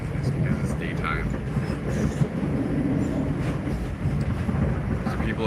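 Train running from Loznica to Belgrade in Serbia, heard from inside as a steady low rumble with light rattling, while a voice talks over it now and then.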